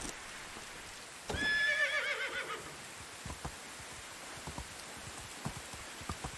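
Horse in the Medieval Dynasty video game gives one loud, shrill whinny that rises and fades over about a second, followed by scattered soft clip-clop hoof taps over a light background of rain or water.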